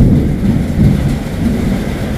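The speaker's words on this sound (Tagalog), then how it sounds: "Kumukulog. Naulan." Thunder rumbles low and heavy during rain outside an ukay-ukay secondhand shoe shop in Cubao, a dense continuous roll with no voices.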